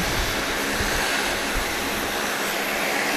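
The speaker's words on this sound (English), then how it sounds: "Cayman Airways Express Flight 4009 warming up to go back to Cayman Brac to Saab 340." Saab 340 turboprop of Cayman Airways Express warming up its engines on the ramp at Grand Cayman airport, a steady, broadband roar with a high whine, continuous and fairly close, no voices.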